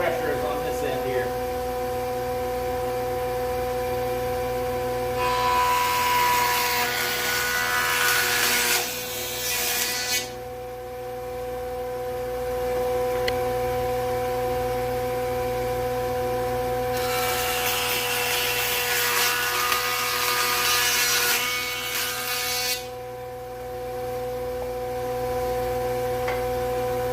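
A jointer cutting a taper into a wooden board, a steady machine hum under two loud, rough cutting passes of several seconds each. Voices are faint or absent.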